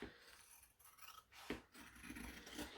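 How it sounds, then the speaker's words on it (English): Class A scissors snip through airliner cabin bag vinyl in a few rough, scraping cuts with a faint rasp between strokes, close and moderately quiet, with no talking. "Most of the time when cutting vinyl, I actually prefer my Class A scissors."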